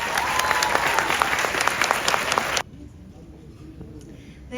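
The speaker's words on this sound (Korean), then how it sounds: "큰 박수로 모시겠습니다." Dense audience applause at a school concert, loud and steady for a couple of seconds before cutting off abruptly, leaving a quiet room.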